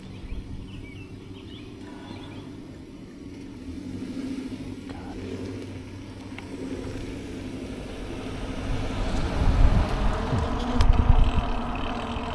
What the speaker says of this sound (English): Got a car coming here we got to watch out for.